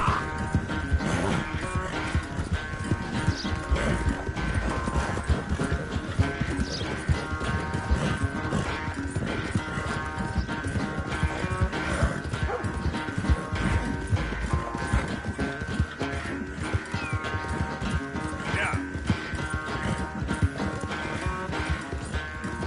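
Horse hooves clop in a fast, steady galloping rhythm during a race in Red Dead Redemption 2, continuous and close, mixed with game sound and occasional whinnies.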